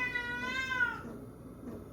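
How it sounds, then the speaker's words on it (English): A cat gives one clear, drawn-out meow that bends downward and fades after about a second, close and fairly quiet in a quiet room. "This cat is, she's very mouthy."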